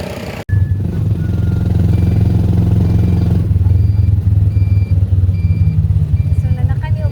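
A motorcycle ride through Butuan City, a loud low engine rumble starting abruptly after a brief cut and running steadily, close up, with faint beeps and road clatter mixed in and no talk.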